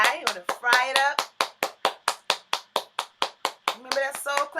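Rhythmic soul-style hand clapping, a steady run of sharp evenly spaced claps close by, with voices mixed in at the start and end.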